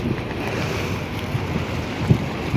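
A fishing boat runs out at sea, its hull and engine rumble mixed with strong wind buffeting the microphone and water rushing past, continuous and loud with a couple of thumps near the end.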